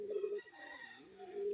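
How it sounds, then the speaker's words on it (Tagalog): Racing pigeon, a club-banded bird, cooing close by in a soft, low rolling call that swells, dips briefly in the middle, then returns steady. "Ito po yung ibon natin na mabait, si Pogi."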